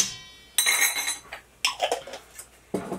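Seasonings and diced garlic being stirred into a marinade for elk meat in a tiny house kitchen, with three bursts of clinking utensil-against-bowl scraping and stirring, close and moderately loud, separated by brief pauses.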